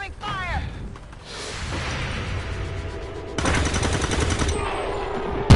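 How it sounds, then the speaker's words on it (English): Gunfire in the video game XCOM 2, dense bursts of rapid shots and rumbling blasts, loud and continuous, with a voice talking over part of it. "There's heavy fire in this zone."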